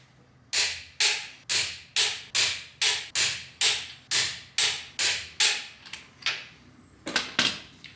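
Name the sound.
torque wrench tightening car wheel nuts to 90 foot-pounds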